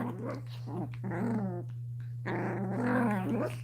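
Two puppies growl at each other while playing close together, a steady run of rumbling, warbling growls in bursts with brief pauses, heard close over a constant low electrical hum.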